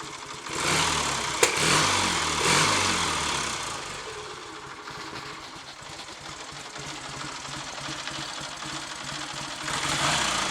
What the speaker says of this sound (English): Notice the tick over, quite erratic.